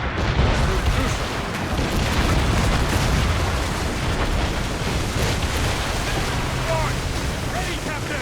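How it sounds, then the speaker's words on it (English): Mortar fire booms out from ships during a naval battle in Assassin's Creed Rogue, deep heavy blasts rolling under a constant wash of sea and wind. "Make good use of your own mortars, Shay."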